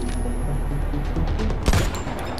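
Gunfire in the mobile shooter Modern Combat 5: Blackout during a sniper-clearing mission, heard as a dense, steady clatter of shots with one louder, sharper burst near the end, with no talking.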